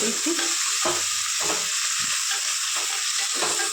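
A spoon stirs brinjal and mutton curry with ginger paste in a hot pan, steady sizzling frying with a few scraping stirs rising over it, close and continuous.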